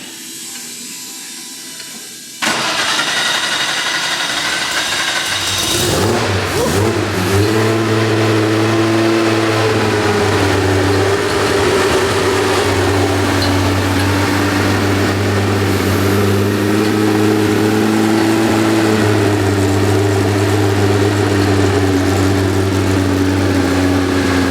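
A 600hp air-cooled Porsche 964 Turbo engine in an RWB Porsche 911 cranks and fires on its first start, catching with a rough burst before settling into a loud, steady idle with a low droning hum and mechanical clatter, close by and without talk.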